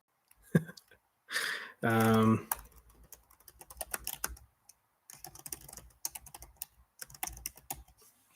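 Typing on a computer keyboard in short clustered bursts of light, close key clicks, with a quiet voice speaking briefly before the keystrokes begin.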